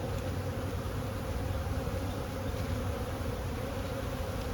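Honeybees buzz steadily while a hive is opened and split, a dense continuous drone filling the space at even loudness, close by with no talking.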